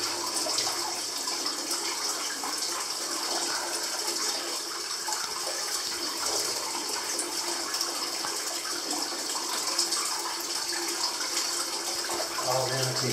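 Fresh spring water flows steadily out of the earth, a continuous close, even gushing and splashing rush that lasts throughout with no breaks, with faint movement noise near the end.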